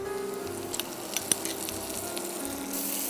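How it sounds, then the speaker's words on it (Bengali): Chopped onion, garlic and chicken wings fry in melted butter and oil, a steady close sizzle with a few sharp spatter pops and faint stirring, no voices. "পেঁয়াজটা একটু ভাজা হতে হতে আমি চিকেন উইংসগুলোকে উল্টে দিচ্ছি"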